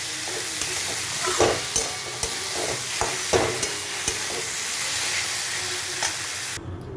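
Mung dal and ash gourd fry with grated coconut in a pan, a steady close sizzle punctuated by repeated spatula scrapes and taps as it is stirred, cutting off abruptly at the end.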